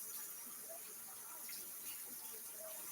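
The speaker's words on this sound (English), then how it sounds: "Trying to get this water hot." A kitchen tap runs steadily into a sink, a soft continuous hiss and splatter heard fairly faintly and close, with no talking over it.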